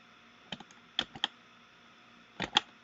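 Keys on a computer keyboard are tapped in short bursts, a few crisp close clicks grouped in quick clusters with pauses between them in a quiet room.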